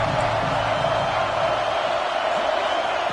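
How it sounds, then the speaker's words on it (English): A video game football crowd roars steadily as a defense holds in the red zone, a dense, continuous wash of cheering with no break for the full stretch. "the crowd coming to life here, trying to help this defense down in the red zone"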